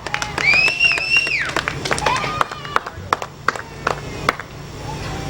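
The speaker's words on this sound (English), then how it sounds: "Give another round of applause to your winner, Brian Reinbaum" Sparse crowd clapping for the enduro race winner at Goods Raceway, light and uneven, with a voice and a whistle-like tone at the start.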